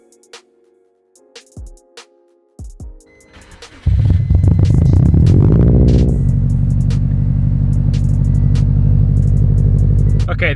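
A Subaru STI, bought in neglected condition, starts up after a few quiet clicks and short cranking bursts, then catches into a loud, steady rumbling idle that runs close up to the end.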